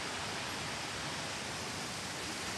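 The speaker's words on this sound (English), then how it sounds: "Look at this beautiful waterfall." A waterfall in a Japanese tea garden pours with a steady, even rush of white water, constant and unbroken for the whole short stretch.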